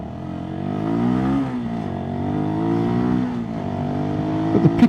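A 2022 Sinnis SM-R 125 motorcycle engine drones steadily and close as it accelerates, its pitch climbing through the gears with brief dips at the shifts, heard alone.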